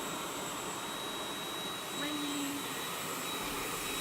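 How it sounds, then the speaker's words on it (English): A vacuum lifter runs after its green on-off button is pressed, giving a faint, steady whooshing hum that rises slightly partway through and holds. "To start the lifter, you need to press the green button for the on-off, and the vacuum starts up."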